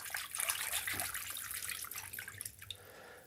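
Water splashing and trickling as a photo print is rinsed in a tray of fresh water in a darkroom, a steady close wash of small drips and sloshes throughout, with no talking.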